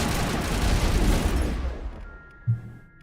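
Sustained gunfire in the Mass Effect Legendary video game: a dense, loud barrage of rapid shots for about a second and a half that trails off, then one short heavy thud.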